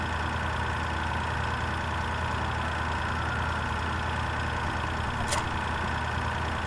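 A tractor engine in Farming Simulator 2013 runs at a steady drone, continuous and fairly loud, with a brief faint click partway through.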